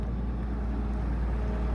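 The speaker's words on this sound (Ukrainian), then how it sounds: "Працює двигун дуже кстати, класно." Combine harvester engine running, a steady, deep mechanical rumble that holds even and unbroken over a brief stretch with no talk.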